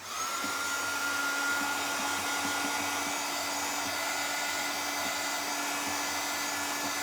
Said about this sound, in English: I'm gonna dry this with a dryer real quick, so it's gonna be noisy.